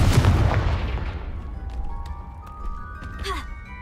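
A Confringo fire spell in a Hogwarts wizarding video game bursts with a loud, close boom that rolls off into a fading rumble, followed by faint game tones and chimes.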